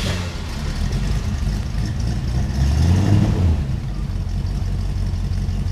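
A 1967 Ford Mustang GT with a 289 V8 running near the mic in a steady low idle rumble, swelling briefly in the middle before settling back, no talking.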